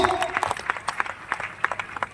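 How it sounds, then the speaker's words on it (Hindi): An audience in an auditorium in Kolkata claps for Tarak sir, a short burst of scattered, uneven handclaps from a modest crowd rather than a full roar. "तारक सर के लिए जबरदस्त तालियां होना चाहिए"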